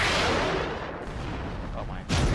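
Rocket launcher blasts in the Roblox game Fortnite Simulator come as a loud, continuous explosive roar that briefly eases and then surges again near the end, with no talking over it.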